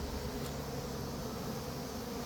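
A continuous, close buzzing of many bees hums steadily throughout, with no voices.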